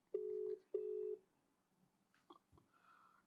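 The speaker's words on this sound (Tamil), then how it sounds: "இப்ப நீங்க கால் பண்றீங்க. கால் பண்ணிட்டு லவுட் ஸ்பீக்கர் வைக்கிறீங்க." A phone call placed on loudspeaker gives two long, steady ringing tones in a row, followed by faint clicks and low handling noise.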